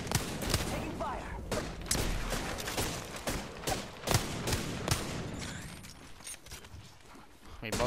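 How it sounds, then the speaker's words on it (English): Rapid gunfire in the shooter Apex, bursts of sharp shots crackling in quick succession with brief pauses and mechanical clatter, loud and close, with a voice shouting partway through. "Taking fire!"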